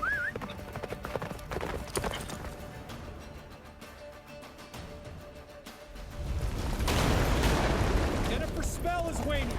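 Horse hooves galloping in The Witcher 3, rapid clip-clop beats under game music and ambience, swelling into a louder rushing, blizzard-like roar near the end, with voices speaking at times.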